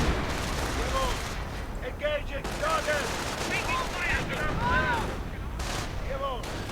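A WWII real-time strategy battle rumbles with mortar rounds and artillery fire, overlapping booms, rattling gunfire and whining shell tones layered densely and continuously from start to finish.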